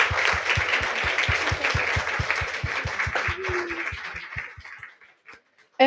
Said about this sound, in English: Can we give one more big round of applause to Amrita Vihar?